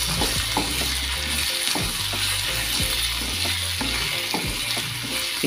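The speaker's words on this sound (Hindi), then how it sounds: "इस तरीके से अच्छे से मिक्स करना है" Cauliflower stalk curry is stirred in a hot pan. A steady sizzle runs under repeated scraping strokes of a spoon throughout, with no talking.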